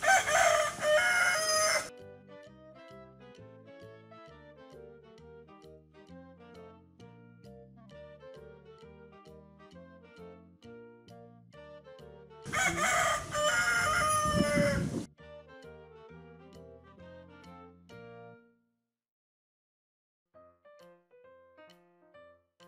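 A rooster crows twice, each time a loud, harsh cock-a-doodle-doo lasting about two seconds. Between the crows a gentle tinkling melody plays softly, and there is no talking.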